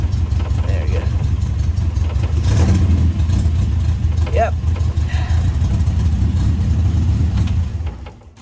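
A 1971 MG Midget engine runs steadily with a low, continuous idle rumble and slight revving, close and loud throughout before cutting off at the very end; a voice talks briefly over it.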